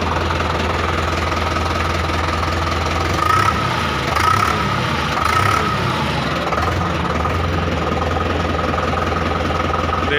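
A Preet 6049 tractor engine, 2020 model, runs steadily up close with a few short revs rising above the idle around the middle, a continuous knocking diesel drone with no talk.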